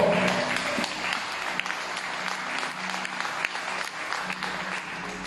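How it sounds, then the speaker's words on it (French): A church congregation applauds loudly and steadily for several seconds, a dense, continuous wash of clapping filling the room with no break. "On acclame Jésus très fort."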